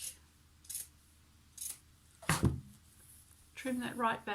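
Scissors trimming back a bulky seam in upholstery fabric, a few crisp snips and one heavier crunching cut, close and quiet, with someone speaking near the end.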